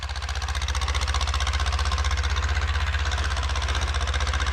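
A diesel tractor engine idles steadily and close by while planting potatoes with a Bomet planter, its low rhythmic chugging and knocking continuous throughout with no voices.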